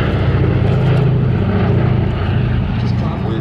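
A B-17 heavy bomber, a four-engine propeller aircraft, flies at a D-Day anniversary air display at Duxford with a loud, steady engine drone that stays close and constant throughout, alongside some talking.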